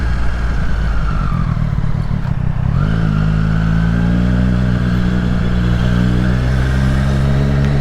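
A Triumph Street Triple R sports motorcycle riding through New York City, engine droning loud and close, with a quick-shifted gear change cutting the note before it climbs again under steady wind.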